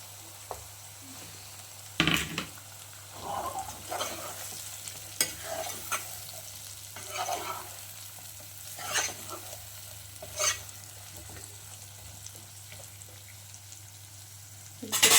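Capsicum sizzles quietly in a pan while a spoon stirs and scrapes it, making sharp clinks and scraping bursts every second or two over a low steady hiss.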